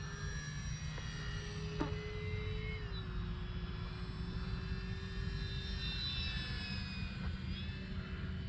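An E-Flite RV-7 sport RC airplane cruising steadily at just under half throttle, a faint, even electric motor drone with a high whine that shifts pitch slightly as it flies past at a distance.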